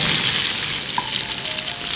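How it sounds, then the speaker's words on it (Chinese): Indian threadfin fish pieces, frozen and thawed, pan-frying in oil: a steady broadband sizzle with a soft bubbling hiss that continues unbroken and close, with no voices. "锅里倒油，鱼肉给它下锅"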